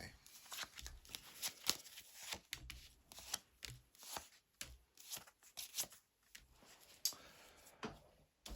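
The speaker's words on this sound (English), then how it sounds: "So, a shuffle first of all" A tarot deck is shuffled by hand, giving soft, papery riffles and flicking card slaps in an irregular rhythm, quiet and close.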